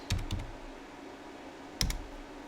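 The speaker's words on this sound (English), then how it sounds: "I'm going to type that into my web browser." Short bursts of typing on a computer keyboard: a quick cluster of clicks at the start and another brief cluster near the end, close and fairly quiet over a low steady room hum.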